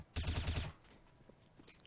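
Automatic gunfire from a weapon in the video game CS:GO, a single rapid burst of about half a second, loud and close, followed by faint game ambience.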